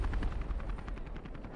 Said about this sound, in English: Enemy helicopters right above.